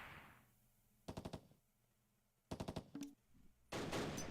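Gunfire in the WWII Arnhem battle game Close Combat Last Stand, heard as several short rattling bursts of automatic fire, followed by a heavier sustained blast that could be grenades detonating at moderate distance.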